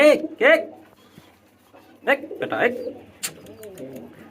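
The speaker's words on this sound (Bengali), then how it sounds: "দেখেন দুইটার সাথেই ডাক দিচ্ছে" Several deep, throaty Spanish pouter pigeon coos sound close by in rolling bursts, with brief pauses between calls.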